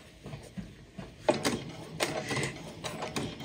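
Sewing machine stitching a fabric pumpkin coaster at stitch length 2.5, giving faint mechanical whirring and clicking bursts that rise and fall unevenly over a quiet room background.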